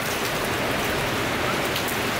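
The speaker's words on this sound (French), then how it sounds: "j'entends la pluie qui tombe sur tous les toits en même temps" Heavy rain falls on many rooftops at once, a dense, steady, even hiss of countless drops with no gaps and no talk.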